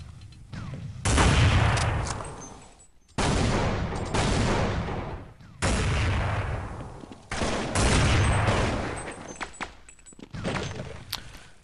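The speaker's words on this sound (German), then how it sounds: "Aslak verschießt da gerade ein paar" Gunfire in Counter-Strike on the de_mirage map during a Copenhagen Games 2012 playoff match, SK vs. WinFakt, with several loud bursts of rapid shots in an uneven rhythm, separated by short gaps.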